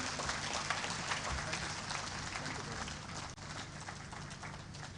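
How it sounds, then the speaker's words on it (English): An audience at a book presentation in Nigeria keeps up sustained applause, a steady, moderately distant wash of clapping with no pauses and some faint voices mixed in. "Please, can we keep the applause going?"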